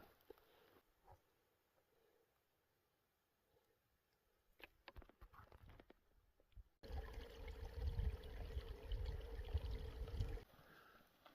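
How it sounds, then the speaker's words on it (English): A small spring or creek near a Shoshone Lake campsite in Yellowstone trickles and gurgles, faint at first, then loud and steady for several seconds with a few light rustles; no talking. "there's a little spring here, or a little creek."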